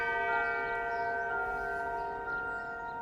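Chimes from a manufactured mechanical clock ring out as sustained, bell-like tones, steady and fairly loud, fading only slightly with no talking over them.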